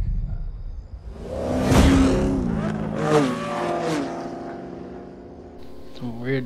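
Car engines in the video game Need for Speed Payback rev and whoosh past with rising and falling pitch, including a slicked R32 GT-R drag car, mixed with music-like tones and voices talking over them.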